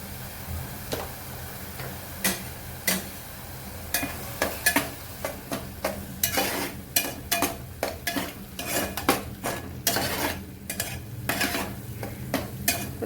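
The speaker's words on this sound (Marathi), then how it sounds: "तेल सुटेपर्यंत परतून घेऊया आपण यामध्ये थोडंसं मीठ घालणार आहे" Tomatoes are sautéed in oil in a pan for dal makhani, with a spatula scraping and tapping against the pan in irregular strokes over a soft sizzle.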